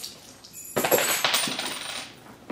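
A quarter coin drops and clinks against keys and other contents of a Tory Burch handbag, a sharp metallic jingle that rings out near and alone before slowly fading.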